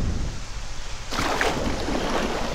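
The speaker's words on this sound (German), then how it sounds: "scheiß Wasserfall" A waterfall in the fantasy video game Divinity II: Ego Draconis sends out a steady broadband rush of falling water that swells suddenly partway through and then holds loud and constant.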